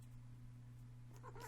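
A house cat meows in a quiet room in a horror visual novel, a brief cry near the end over a steady low electrical hum.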